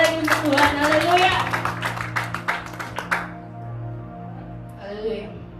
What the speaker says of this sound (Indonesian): Mari kita berikan tepuk tangan lagi sekali lagi untuk Tuhan.